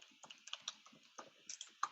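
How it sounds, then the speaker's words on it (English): Quiet, close tapping on a computer keyboard, a run of irregular individual key clicks with no talking. "you're just typing in there whatever you would like to be typing in."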